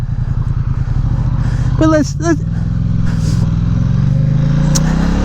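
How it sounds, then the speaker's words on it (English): Ducati XDiavel S motorcycle engine running while riding, a loud steady throbbing drone with wind noise, briefly under a short spoken word from the rider. "let's go for a ride on the Ducati XDiavel S"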